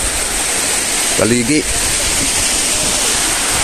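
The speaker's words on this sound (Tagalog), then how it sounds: "Maagos lang ang tubig pababa." Rainwater flows downhill through a flooded onion field, a loud, steady rushing wash throughout, with a short stretch of someone talking over it.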